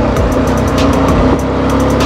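Close and loud, a motorbike engine runs in first and second gear on the rough off-road track at Rati Ghat. It drones continuously and pulses as the throttle rises and falls.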